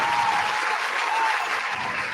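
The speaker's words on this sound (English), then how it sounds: "Give her a round of applause." An audience breaks into steady applause for a guest being introduced, many hands clapping at once in a continuous, even wash with a faint tone drifting underneath.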